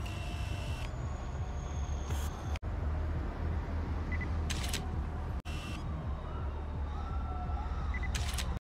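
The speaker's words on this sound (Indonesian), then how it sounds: "Segala aktivitas dan wajah mereka dibidik dengan kamera." Camera shutter snapping photos during a film scene of spying on a gangster hideout: a few brief, crisp clicks spaced seconds apart over a steady low rumbling background.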